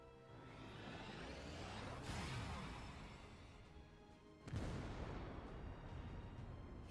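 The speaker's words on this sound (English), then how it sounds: "Primed and ready. Firing Hekatos." Hekatos artillery firing in the Shadowverse: Worlds Beyond game, two heavy blasts a couple of seconds apart, each ringing out with a sweeping tail, fairly faint overall, no talk.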